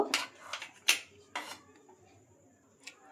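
Chopped onions are tipped into a pan for egg pakora. A few quiet clattering taps and scrapes from the bowl against the pan come in quick succession, then it goes mostly still.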